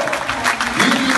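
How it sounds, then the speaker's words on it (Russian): Concert audience at an Avar song show clapping, a dense, loud, steady burst of applause from a crowd. "Аплодисменты можно и погромче,"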